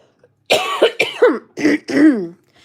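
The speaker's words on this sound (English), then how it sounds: "I just freaking start coughing" A person recovering from pneumonia breaks into a fit of about five harsh, close coughs in quick succession, with no talking over them.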